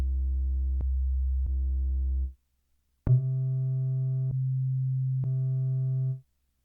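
Sine wave tones from a Roland JD-Xi digital synthesizer: a low sustained note about two seconds long, a short pause, then a higher steady note lasting about three seconds, each with faint clicks, played alone.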